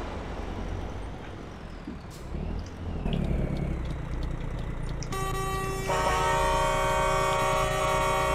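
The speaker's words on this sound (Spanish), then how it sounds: "Bueno, esa bocina." A truck air horn sounds in the Euro Truck Simulator 2 game on a Brazilian map with a 1938 Mercedes-Benz hauling a loaded container, blaring a sustained tone over steady engine rumble and traffic noise.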